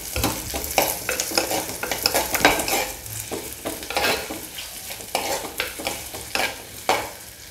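Small onions sauté in a pan for a garlic kara kulambu. They sizzle steadily, with repeated scraping stirs in an irregular rhythm, close and clear, and no one speaks.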